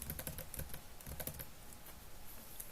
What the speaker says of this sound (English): So I'm typing from Alice to Bob, and then Bob also edits and types back to me.